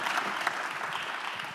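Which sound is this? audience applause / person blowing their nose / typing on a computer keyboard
audience applause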